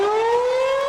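An outdoor tornado warning siren gives a loud, steady wail, holding a sustained tone that slowly rises in pitch, sounding alone with no voices.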